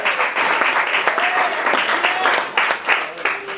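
Church congregation applauding at a Spanish-language sermon, a steady dense clatter of many hands filling the room, with brief voice-like tones and shouts rising over it.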